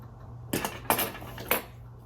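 Scissors snip through a section of hair during a home trim and layering, three crisp cuts with short pauses between them in a quiet room.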